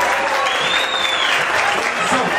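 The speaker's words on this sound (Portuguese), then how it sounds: "Aplausos aí, por favor" A crowd at an anniversary tribute event applauds loudly and continuously, with dense, sustained clapping throughout.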